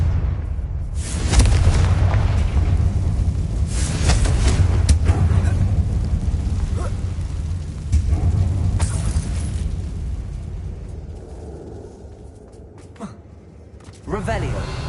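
A Confringo blasting spell explodes in Hogwarts Legacy inside an abandoned mine, with loud booming bursts repeated over a rumbling background and game sounds filling the scene.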